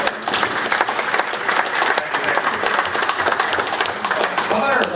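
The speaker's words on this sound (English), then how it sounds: "Round of applause." Lively clapping from a crowd at a celebration-of-life gathering, dense and continuous with crisp individual claps throughout, fairly close and loud.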